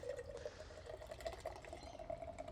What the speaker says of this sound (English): So with these cans that have the widget in them, I'm all for the hard pour.